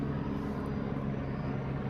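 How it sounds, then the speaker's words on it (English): A helicopter flying overhead makes a steady low rumbling drone outdoors, continuous and fairly loud throughout, with no voices. "helicopter flying overhead"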